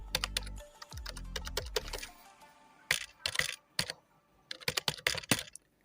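Typing on a computer keyboard while entering text in Microsoft Word, with quick clusters of close, crisp key clicks broken by short pauses and a low hum at the start.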